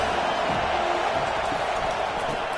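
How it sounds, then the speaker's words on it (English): A stadium crowd roars at an American football game, a broad, sustained wash of cheering noise at a constant level from start to finish. "this crowd is turning it up a notch"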